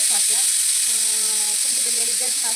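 Ginger tempering in hot oil for a home-cooked dish, a loud, steady hiss of sizzling fat close by, with a voice speaking over it.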